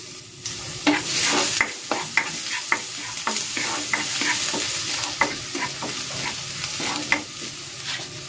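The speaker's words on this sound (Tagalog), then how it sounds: "Magigisa na ako ng bawang." Garlic sautéing in a hot pan for a vegetable dish with cream, a steady close sizzle broken by repeated scraping stirs of a utensil, with no voices.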